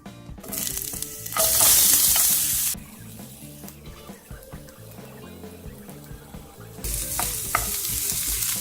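Onions hitting hot olive oil in a frying pan, a loud burst of sizzling that eases to a softer crackle, then swells again as stirring resumes, with music playing underneath.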